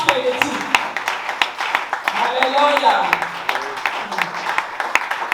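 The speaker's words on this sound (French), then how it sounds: "toujours sous nos applaudissements frénétiques" An audience at an evangelical church conference in the DRC applauds Bishop Philippe Lema with scattered, uneven claps under a speaking voice.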